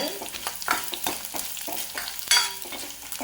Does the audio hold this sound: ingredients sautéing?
yes